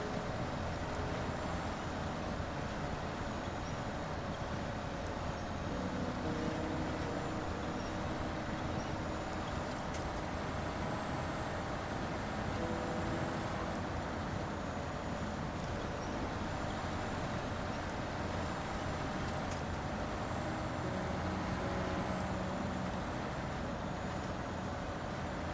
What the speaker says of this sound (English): I can't take this truck anymore. It's so loud.